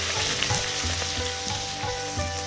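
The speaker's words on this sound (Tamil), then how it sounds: "முதல்ல எண்ணெயில் போட்டு மேலே வந்த பிறகு தான் நம்ம அழுத்தி விடணும்." Pooris frying in hot oil for Karnataka poori sagoo, a loud, steady bubbling sizzle up close, with a few light pressing and scraping touches in the pan and no talking.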